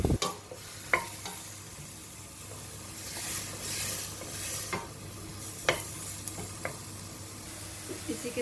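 Onion with garlic-ginger paste sautéing in a pan for shahi paneer, a steady soft sizzle broken by occasional scraping stirs of a spoon, close and fairly quiet, with no talking.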